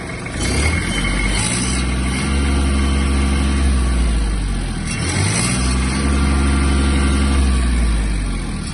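A Kubota GB-18 Japanese mini tractor engine is revved twice in quick succession, each rise and fall of pitch clearly audible over the close, steady idle.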